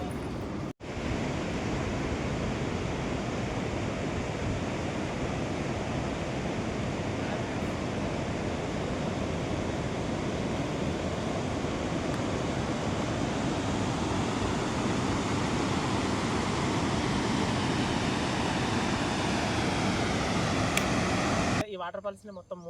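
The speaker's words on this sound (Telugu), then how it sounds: "ఈ వాటర్ ఫాల్స్ని మొత్తం 3 విధాలుగా పిలుస్తారు" A waterfall roars as a dense, unbroken rush of falling water, loud and steady for about twenty seconds before cutting off abruptly at the end.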